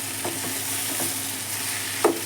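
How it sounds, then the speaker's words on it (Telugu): Okra sizzles and softens in hot oil as it is stirred, giving a loud, even frying hiss with light scraping and one sharper utensil scrape near the end. "బెండకాయ వేసి మంచిగా ఈ నూనెలో మగ్గాలండి."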